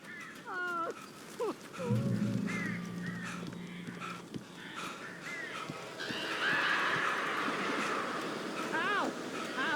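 Birds caw and croak in the video game Alan Wake, several harsh calls scattered through a tense indoor scene, moderately close, mixed with other game sounds and voices.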